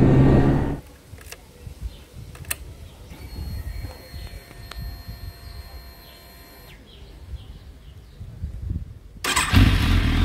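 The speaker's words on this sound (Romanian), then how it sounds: "Am dat drumul la motor." A motorcycle is started outdoors: after a brief burst of noise, a few sharp clicks and a quiet stretch with faint birdsong, the engine catches with a loud rough burst at the end.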